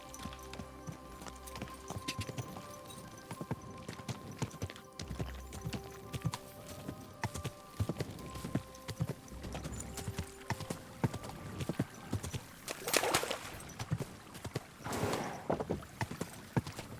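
Horse hooves clip-clop in a steady trot across the ground in the video game Kingdom Come, a continuous rhythmic patter that runs the whole stretch with a brief rushing swell near the end.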